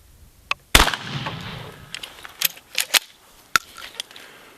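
A defensive shotgun firing a single slug at a target 10 yards away outdoors: one loud, sharp blast with a short decaying tail, followed by a few lighter clicks and knocks of handling.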